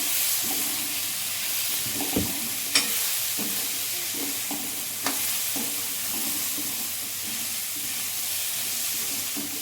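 Home cooking in a frying pan: a spoon stirs the food with repeated scraping and clinking strokes over a steady sizzle and hiss, and the pan is heard close, with no talking.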